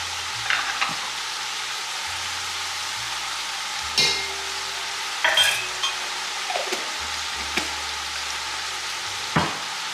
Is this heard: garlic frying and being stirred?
yes